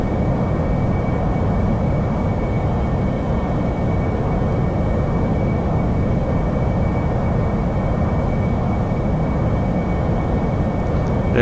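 AV-8B Harrier jet engine in DCS World during carrier takeoff and landing practice, a steady, loud, broadband roar with a thin constant whine holding level throughout, no clear spool-up or spool-down.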